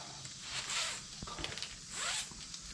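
Data center copper wires being pulled through during scrap stripping, two drawn-out rasping zips about a second apart, close and fairly quiet, with no talking.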